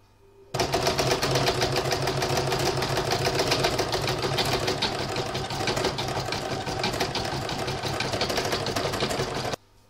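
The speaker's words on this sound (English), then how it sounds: "I'm going to pop that back in my machine now and complete the last round of stitching, round five" Embroidery sewing machine stitching the final fifth round of a spider web design, a loud, fast, even mechanical rattle that starts abruptly and runs steadily before stopping.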